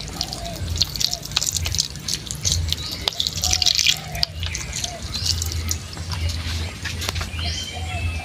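Vinegar trickles into a pot of adobo with garlic, bay leaves and peppercorns, a light dripping patter that is close and continuous, joined by faint chirps in the background.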